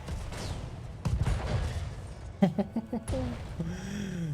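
A weapon discharges in a Halo-style shooter: a rapid burst of sharp, close shots, then a sweeping energy whoosh, with a voice speaking just before the firing.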